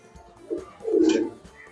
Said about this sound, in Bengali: খুব সুন্দর পায়রা রয়েছে এটা